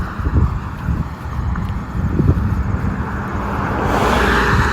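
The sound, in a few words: cars driving by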